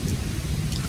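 Rain falls steadily through a summer thunderstorm, a dense hiss over a continuous low, rolling rumble of thunder, close and fairly loud with no voices.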